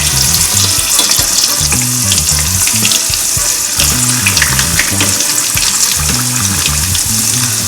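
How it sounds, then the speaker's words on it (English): Firecracker shrimp rolls frying in hot oil give a loud, steady, close sizzle and crackle, dense and unbroken, with a low rhythmic hum running underneath and no talking. "Gently drop your firecracker shrimps into the hot oil"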